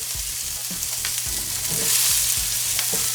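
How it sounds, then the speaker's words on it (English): Granny Smith apples fry in a pan alongside pork chops, giving a loud, continuous sizzle with occasional stirring knocks and scrapes, and nobody speaks. "we're gonna go with our apples because we want to cook these down a little bit"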